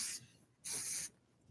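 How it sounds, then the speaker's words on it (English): Hairspray hisses from an aerosol can into the hair roots in two short bursts, the second longer, with a brief quiet gap between them and no talk. "I'm going to use a hairspray."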